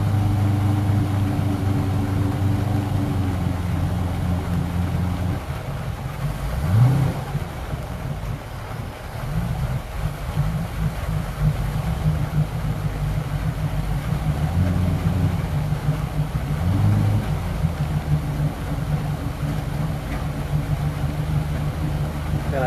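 Boat engines warm up before a haul-out at Cedar Point, a low idle rumble that rises into several revs and settles back, with wind buffeting the microphone throughout.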